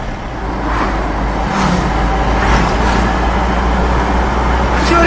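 A Mahindra Thar diesel drives in fourth gear at about 40 along winding roads in Kerala, a loud steady low engine drone with road and wind noise from inside the cabin.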